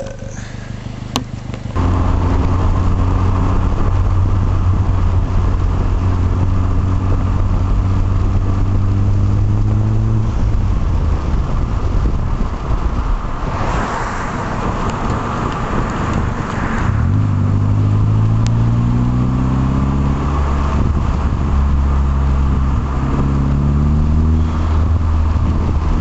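A VW GTI with a 1.8T engine and a Thrush glasspack turboback exhaust, recorded from the window while driving, revving with a loud, deep gurgling drone that climbs and falls through the gears. The engine stays steady and close throughout, with no talking over it.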